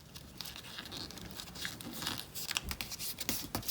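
Origami paper is folded and creased into a pencil-shaped bookmark, with close crinkling, scraping and rustling that grows busier toward the end.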